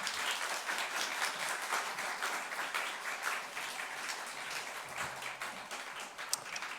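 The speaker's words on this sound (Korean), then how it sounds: "큰 박수로 우리 목사님 맞이하도록 하겠습니다" A church congregation claps warmly to welcome the pastor at a Holy Week special service, a steady, dense wash of hands sustained throughout without a break.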